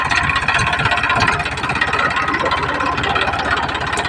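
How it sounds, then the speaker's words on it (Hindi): Tractor engine running steadily through a slow ride across farm fields, a continuous close mid-pitched rumble with no breaks. "ड्राइवर साहब ने ट्रैक्टर को सही सलामत से चला रहे हैं"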